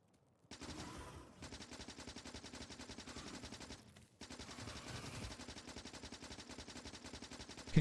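Automated gun turrets in the factory-building game Factorio fire in long, rapid machine-gun bursts, a dense steady rattle that breaks off briefly and then resumes, loud and alone with no talk.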